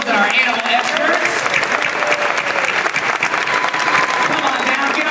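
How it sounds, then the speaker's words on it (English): Dense, sustained applause from a theater audience at a live SeaWorld Orlando animal show, steady and loud throughout with a few scattered voices mixed into the crowd noise. "let's give a nice big round of applause for all of our animals and our animal experts"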